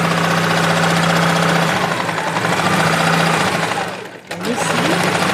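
A sewing machine stitches a dress seam in a steady, fast mechanical whir with rhythmic needle chatter. It runs continuously, pauses briefly near the end, then resumes.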